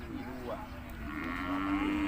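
Beef cattle at a Thai livestock market in Sikhoraphum moo in low, drawn-out calls, one rising and falling, then a long steady bellow near the end, over a constant busy market din.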